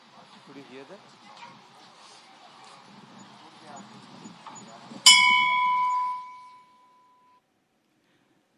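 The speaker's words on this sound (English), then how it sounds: "Because it's a temple bell." A temple bell is struck once over a background of speech, giving a sharp clear ding whose ringing tone fades out over about two seconds into silence.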